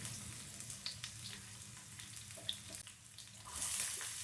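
Mustard seeds, cumin, fenugreek, dried red chillies, curry leaves and crushed skin-on garlic sizzle in hot oil for tempering, a faint steady fry with a few scattered pops and a brief louder hiss near the end.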